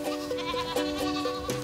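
Young goats in a herd of about thirty bleat repeatedly in quick overlapping calls, close and loud, on a farm guarded by livestock protection dogs.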